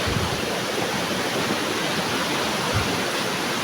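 A stream or river flowing, a steady broad rushing wash of water, loud and continuous with no voices.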